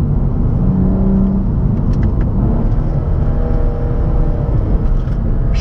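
BMW 135i with a 340 hp engine, heard from inside the cabin as a loud, steady engine drone and road rumble; any exhaust pops on gear shifts are buried in the continuous roar.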